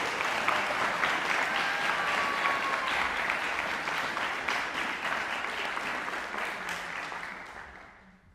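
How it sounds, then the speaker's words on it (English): An audience at a university school of music awards ceremony applauds steadily for several seconds, the clapping fairly distant and even, then tapering off to silence at the end. "let's give him a round of applause."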